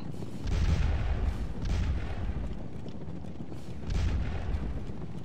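Artillery fire in the Napoleonic-era video game Scourge of War, rumbling in repeated low booms that roll and overlap against steady battlefield noise.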